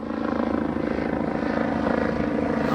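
A police helicopter passes over Carbondale, Illinois, its rotor and engine a steady, loud, even drone that holds for the whole stretch with no voices.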